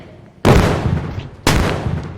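Two sharp, loud sniper rifle shots in a zombie-shooting video game crack about a second apart, each with a fast attack and a fading tail.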